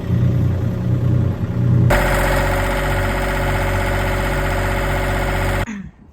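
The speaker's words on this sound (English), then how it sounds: "Engine 1 passed the test." Catamaran engine started during a test, first a lower idle, then a sudden jump to a loud, steady running drone with a fine rhythmic knock, before it cuts off abruptly near the end.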